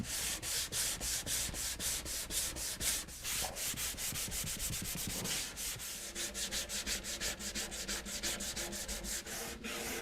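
Hand sanding of wood with the grain using 320 grit paper: a steady series of soft, rhythmic back-and-forth rasping strokes, close and fairly quiet, with no talking.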